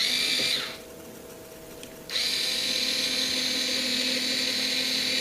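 A power drill driving screws back in while a water pump is being replaced, a close steady whine that dips briefly in the middle and then resumes at full strength.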